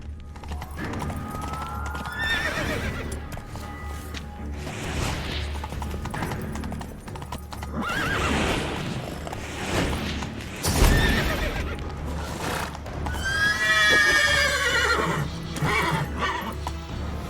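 Horse in The Witcher 3 video game neighing and whinnying repeatedly over continuous clopping hooves, loud and close, with a deep thud partway through.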